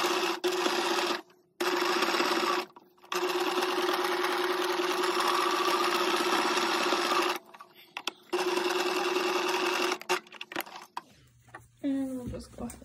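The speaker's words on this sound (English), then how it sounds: "I'm just gonna use my sewing machine to go around this edge here. I'll use a zigzag stitch." A sewing machine runs a zigzag stitch around the edge of a child's shorts, whirring in long steady runs broken by brief pauses, with a final slowing clunk.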